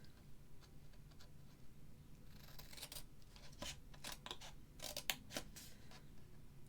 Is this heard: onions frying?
no